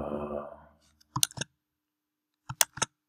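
Mouse clicks on a computer, heard after a voice trails off: a quiet, close pair of crisp clicks, a pause, then another quick pair against near silence.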